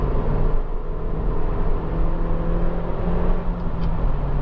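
A Honda Civic 1.8 i-VTEC EX engine revs hard in third gear, a steady loud whirring drone heard from inside the moving car, with no talk over it.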